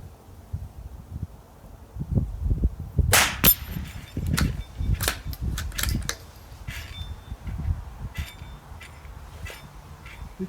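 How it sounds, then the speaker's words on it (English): A Ruger .22LR rifle fires at a target on an outdoor range, several sharp, short cracks spaced apart with some distant echoing pops, over steady wind-like background rumble. "I think I'm shooting a little high here"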